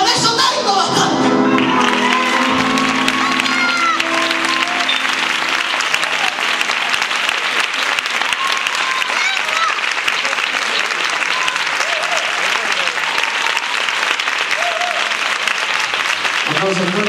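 Loud, dense audience applause after a stage performance, with a brief tonal note and voice at the start before the clapping swells and holds steady, thick and close, until a drop near the end.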